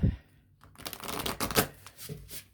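Tarot cards are shuffled in several quick riffling bursts, close and crisp, with short pauses between.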